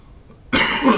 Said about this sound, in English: The only reason I'm coughing is because I have a cold